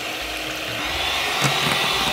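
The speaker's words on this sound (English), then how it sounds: "we're done with the whisking of the egg whites" A Samu Giken electric stand mixer whisks egg whites on its lowest speed, giving a steady, close whirring motor drone with a bright high hiss that holds evenly throughout, no voices.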